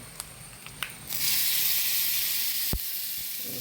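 After a few soft clinks, a sudden loud sizzling hiss bursts up as tempering spices hit hot oil for horse gram kadabu, then settles, broken by a sharp clack.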